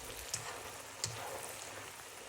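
Onions and garlic fry in melted butter for a mixed seafood dish, making a steady, close hiss of sizzling with a couple of small pops, heard alone without any talking.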